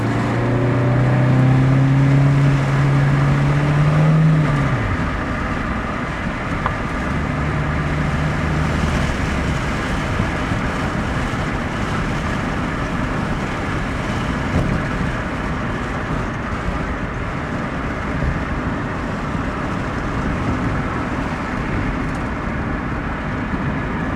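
A 1992 Honda Accord with a 2.2L engine cruises along the road with a steady, loud engine and road rumble. A rising engine tone sweeps up early on, then settles into a constant drone.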